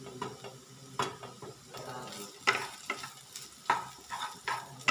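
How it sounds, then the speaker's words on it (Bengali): Potato and cauliflower frying for singara filling, a soft sizzle with repeated scraping and stirring knocks at an irregular rhythm, fairly quiet and without talk. "আলু ফুলকপির অর্ধেক ভাজা হয়েছে।"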